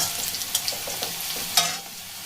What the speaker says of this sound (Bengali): পেঁয়াজগুলো দেখুন খুব সুন্দর ভাজা হয়ে গেছে